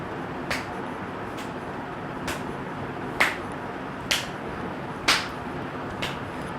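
Hands clap behind the back during a standing women's chest exercise, producing seven sharp, separate claps spaced roughly a second apart against a quiet room background.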